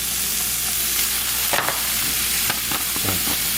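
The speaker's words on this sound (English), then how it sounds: "now we're gonna go ahead and add in our steak." Steak sizzles and fries in a hot pan for Philly cheesesteak egg rolls, a steady close crackle with a few stirring scrapes partway through and no talking.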